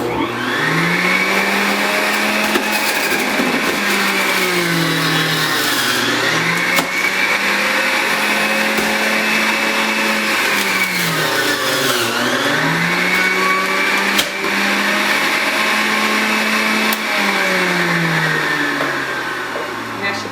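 A Hamilton Beach Big Mouth Pro juicer grinds through apples with a loud, steady motor whine that sags and recovers in repeated waves as fruit is pushed in, running continuously for the whole stretch.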